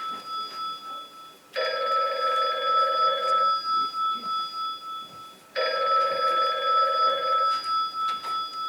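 Telephone bell rings in two long, clear bursts of about four seconds each, separated by a short pause, with no voices over it.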